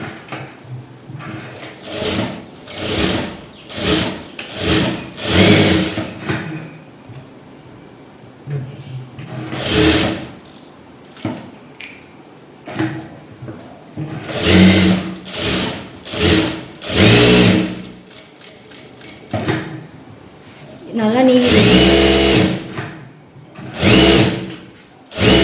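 A sewing machine stitches around a blouse lining in repeated bursts, loud close runs of whirring separated by short pauses, with a person speaking between some of the runs.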